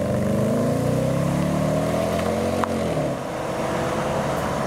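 A classic BMW 8 Series leaving a car meet drones past nearby, its engine note rising steadily then dropping away as it moves off, loud and continuous.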